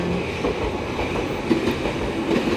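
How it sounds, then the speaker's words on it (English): A train rolls past near a station in Japan, a close, steady rumble with rhythmic clicks and clunks of wheels over rail joints and faint metallic squeals, with no voices. "Ayan, may train."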